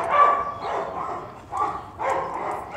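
A dog gives short muffled barks and whining whimpers in a few uneven bursts, moderately loud and fairly close.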